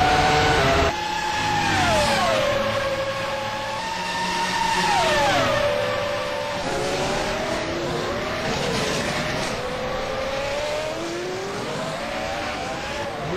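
Formula 1 cars race along a straight in the rFactor F1 2011 sim, engines whining and shifting pitch as several pass in sequence, loud and continuous with overlapping tones across the whole stretch.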